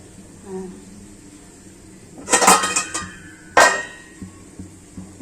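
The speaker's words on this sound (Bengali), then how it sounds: "এই যে আলতো করে ইয়েটা টিফিন বক্সটা এই কড়াইয়ের মধ্যে বসিয়ে দেবো।" A metal tiffin box is set down into a wok of water while steaming hilsa, giving two sharp metallic clanks and a rattle against the pan, close and loud over faint background noise.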